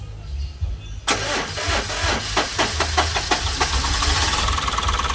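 A Suzuki Super Carry with a hot-engine hard-starting problem cranks briefly, then catches and settles into a rough, close idle with rhythmic pulsing.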